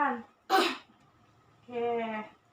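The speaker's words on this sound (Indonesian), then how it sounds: "Tarik nafas, tahan, batukkan." A person coughs deliberately during an effective-cough breathing exercise: a short voiced sound, one sharp forceful burst, then a longer voiced exhalation, close and fairly quiet.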